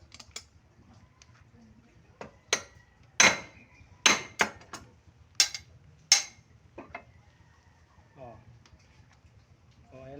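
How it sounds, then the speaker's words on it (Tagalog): Sharp metallic hammer strikes ring out irregularly, about half a dozen loud blows with lighter taps between, hammering a piece flat during house construction, with speech heard in the clip. "pinupukpok lang po yan para maging pantay"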